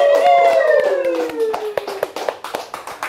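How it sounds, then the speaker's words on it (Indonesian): A podcast audience gives a short burst of clapping, a handful of sharp close hand claps following a trailing tonal sound at the start, loud then thinning out within a few seconds. "Tepuk tangan semuanya."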